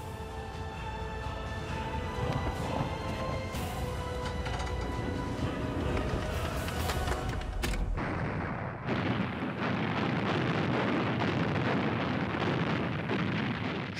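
Naval guns of the cruiser HMS Belfast firing in a shore bombardment: heavy, continuous booming and rumbling blasts, loud and dense throughout, with a sudden shift in the middle.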